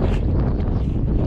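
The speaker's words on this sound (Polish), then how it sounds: "Wieje dzisiaj okropnie." Strong wind gusting through a forest, a dense, steady roar buffeting the microphone for a moment with no other sounds.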